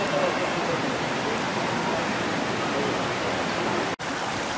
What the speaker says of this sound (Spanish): cascadas típicas aquí de Urbaneja del Castillo, ahí abajo